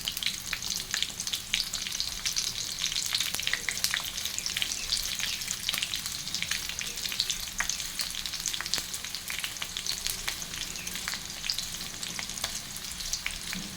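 Chopped onions frying in a little oil in a pan for a goat meat dish, a dense, steady sizzle with crackling pops, close and constant throughout, with no talking.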